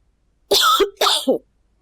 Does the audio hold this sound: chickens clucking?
no